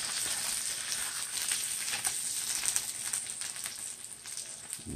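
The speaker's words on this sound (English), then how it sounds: "Sizzle, sizzle again." Thick steakhouse burgers sizzle over a grill fire, a steady crackling hiss with scattered pops and spits, close and continuous, with no voices.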